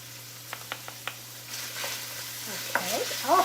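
Garlic and broccolini frying in a pan: a few light clicks and taps at first, then a soft sizzle that builds and carries on, with a sharper rattle near the end.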